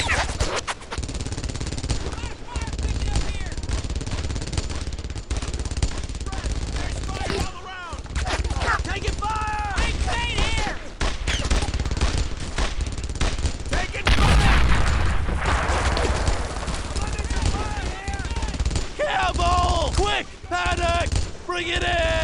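MG-42 machine gun fire in a WWII Brothers in Arms battle with a half-track nearby, bursts of rattling gunfire and booms running steadily through the scene with voices shouting over it.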